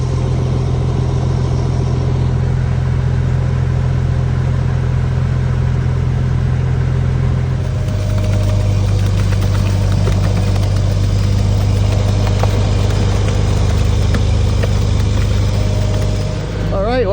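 A concrete mixer truck's diesel engine runs steadily and loudly nearby during a pour, a constant low droning hum that shifts pitch once midway as the engine settles into a different speed.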